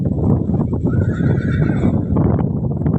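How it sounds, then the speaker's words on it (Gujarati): A horse whinnies loudly and close, one long, shaky neigh that fills most of the moment, with faint hoof clops and shuffling underneath and no voices. "આપણો ઘોડો નવો લઈ આવ્યા છે"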